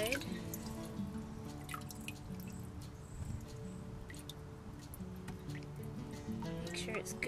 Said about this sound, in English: Shift it around to let the water come out each side.